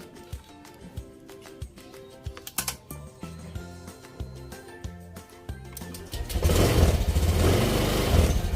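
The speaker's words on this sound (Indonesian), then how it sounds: "Lalu kita hidupkan lagi. Menggunakan starter." Engine cranked by its electric starter after a series of close mechanical clicks and taps, then catching and running at a loud, steady idle for the last two seconds.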